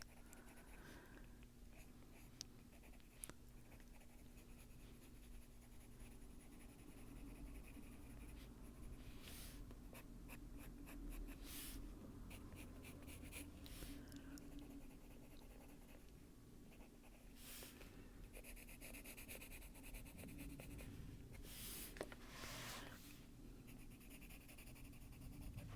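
Colored pencil scratching across paper in a quiet room, steady close strokes with bursts of quicker back-and-forth hatching, soft and continuous.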